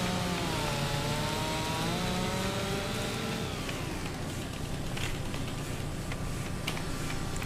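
Chainsaw in Farming Simulator 25 cutting logs, a loud continuous engine whine that shifts pitch as it bites in, then steadier buzzing with crackling cutting texture.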